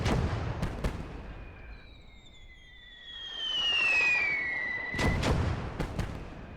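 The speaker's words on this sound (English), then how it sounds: "Right, you two. Start shooting at him." Gunfire from soldiers in the World War II strategy game Their Finest Hour: sharp distant shots crack out sporadically, a rumbling blast swells mid-way, and a high whistling streak passes overhead before more shots land.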